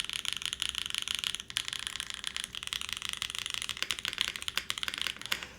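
Rapid mechanical keyboard typing on a BakenekoGO fitted with O-rings, a steady stream of close, crisp key clacks with brief pauses, no talking.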